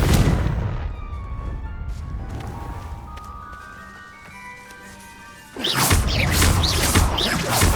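A Confringo blast spell goes off in Hogwarts Legacy, a loud burst followed by a decaying crackle and ringing tones, then a second heavy impact erupts with a rough, noisy blast near the end.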